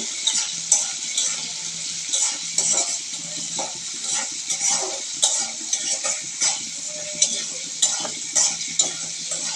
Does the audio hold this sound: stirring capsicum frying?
yes